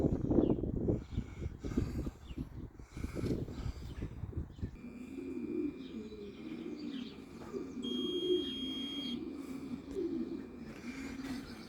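Racing pigeons arriving back at a loft after a 350 km race, their soft repeated cooing steady across the second half, following a noisier, more broadband opening with some flutter and movement near the birds.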